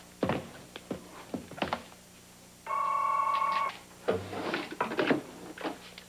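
A telephone rings once, a bright electronic trill lasting about a second, amid nearby bumps, footsteps and handling thuds indoors.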